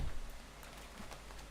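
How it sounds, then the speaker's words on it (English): Rain falling outside, a faint steady hiss of drops with soft patters, heard alone and fairly distant. "Ooh, it is raining."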